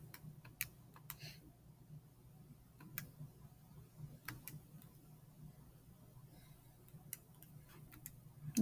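Quiet, irregular key presses on a calculator keypad during an algebra lesson on geometric series, scattered light clicks over a low room hum with no talk.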